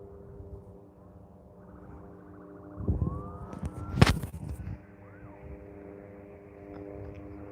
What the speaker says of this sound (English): I can hear some sirens, maybe some practice going on the tarmac to my right here